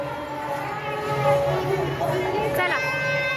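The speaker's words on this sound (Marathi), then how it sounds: "गर्दी बघा किती आहे." A dense crowd of pilgrims at Hadapsar square during the Pandharpur wari, a steady murmur of many voices and movement with a nearby voice speaking over it.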